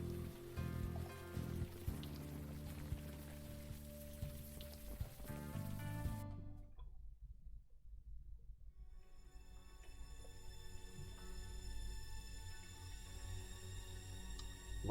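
Steady rain falling in the video game Unavowed, a continuous soft patter and hiss that carries on alone with no voices, partly dropping away midway before returning at a similar level.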